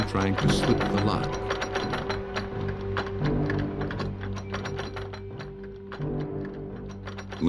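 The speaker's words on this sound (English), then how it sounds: "She looked through the peephole and saw a man trying to slip the lock." Metal door lock being worked at a front door, steady rapid mechanical clicking and ratcheting with a faint hum underneath, close and continuous throughout.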